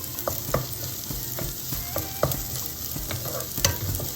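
Onions sautéing in a pan for a Tamil greens kootu: a steady sizzle with repeated stirring scrapes and taps of the spatula against the pan, close and clear, no talking.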